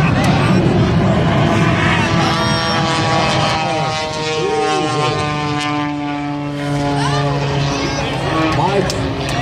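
A jet-powered truck with afterburner races a propeller airplane, giving a loud sustained roar with rising and falling engine tones, while a commentator talks over the noise.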